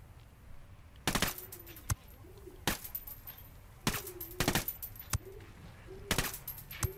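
Suppressed LVOA-C rifle shots in Ghost Recon Wildlands come as sharp, short cracks in small clusters of one to three, spaced by quiet gaps with faint ambient game tones between bursts.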